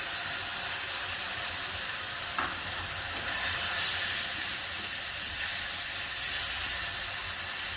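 Soaked ground spices stirred into fried onions in a pan while cooking potato-cauliflower curry, giving a steady broadband sizzle and hiss with stirring scrapes throughout, close and continuous, with no talking.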